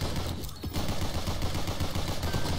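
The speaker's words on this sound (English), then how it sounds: "So many split bullets, man." Dense, continuous gunfire from a swarm of split bullets in the video game GunCraft Survivor, a loud rapid-fire clatter that keeps up almost without pause, dipping briefly once.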